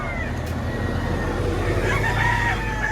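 A rooster crows at a busy chicken market in Batangas, a drawn-out call sitting in a dense, loud bed of crowd and background noise.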